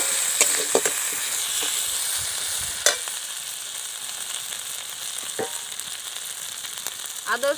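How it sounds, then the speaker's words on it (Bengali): Ginger garlic paste fries in a pan with a steady bright sizzle, interrupted now and then by short scraping stirs and clinks from the spatula. "এবার দিয়ে দিচ্ছি আদা রসুন বাটা। আদা রসুনটা ভালো করে নেড়ে নেব যাতে আদা রসুনের কাঁচা গন্ধটা কেটে যায়"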